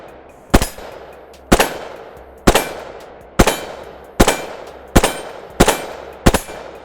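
A Desert Eagle .357 handgun emptying a magazine of hollow points, eight loud, close gunshots at a steady pace about a second apart, each with a short echoing decay.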